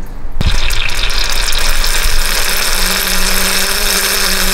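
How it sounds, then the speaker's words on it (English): Coolant pouring out of the leaking lower radiator hose on an overheating Chevy, a steady loud gush of liquid over a running engine hum close to the microphone, with no talk. "It's leaking right out of that lower hose."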